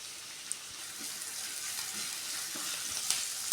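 Onion, green chili and curry leaves fry in a pan for cauliflower kurma, giving a steady, close hiss of sizzling oil with a few small pops and crackles throughout.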